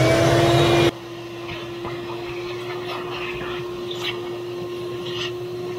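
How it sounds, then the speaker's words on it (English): A vacuum roars loudly for a moment, then drops to a lower steady hum that keeps running with faint clatter and a voice in the background. "it just goes right over here to the wet dry vacuum"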